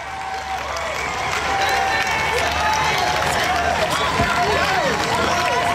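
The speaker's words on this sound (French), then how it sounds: "On se tient debout dans l'acclamation." Standing church congregation cheering and clapping, a thick continuous wall of crowd noise with shouted voices and whoops rising and falling over steady applause.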